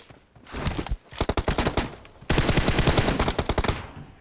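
Rapid automatic gunfire from PUBG Mobile rattles in two loud bursts, the first choppy and broken, the second a longer continuous spray after a short pause.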